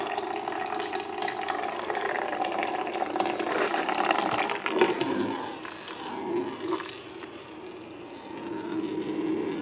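Steady rushing, gurgling oil mixed with water drains continuously from an engine, a close splashing flow with slight bubbling that eases off toward the end.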